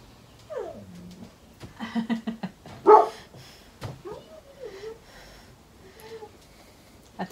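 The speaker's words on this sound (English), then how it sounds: "the dog has started barking at me" A pet dog indoors barks in short, scattered yips and whines at moderate distance, quiet against a still room with no talking.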